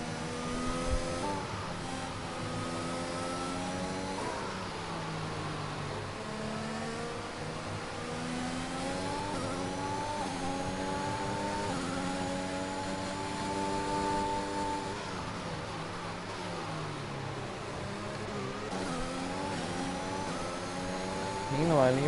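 Several McLaren race cars roar through a racing video game, their engine notes rising and falling in pitch as they accelerate and shift, steady and close throughout while a commentator talks over them.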